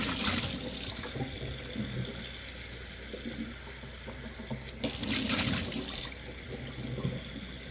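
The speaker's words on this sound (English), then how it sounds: "Cleaning the sink as well" Tap water runs steadily into a kitchen sink being cleaned, a broad hissing splash that swells louder toward the end, close and continuous without speech.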